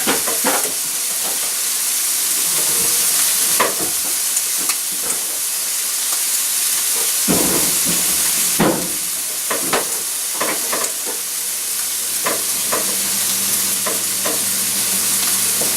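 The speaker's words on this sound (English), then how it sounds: "we're going to flip the steaks and we're going to leave them on that side for another like 3-4 minutes" Steaks sizzle loudly in a pan after being flipped, a continuous close hiss with scattered pops, clanks and scraping, and a low hum entering near the end.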